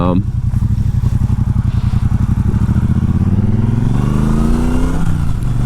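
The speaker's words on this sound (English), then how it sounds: "I like this. It's a good feeling bike. It pulls well. It pulls very well." A Triumph Bobber motorcycle being ridden, its engine a loud, close, throbbing drone that climbs steadily in pitch as the bike accelerates, then settles near the end.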